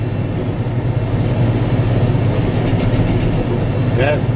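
A heavy LS XR4140H tractor engine drones steadily at low pitch while working a box blade, rumbling continuously throughout without noticeable change, with some faint higher scraping near the end.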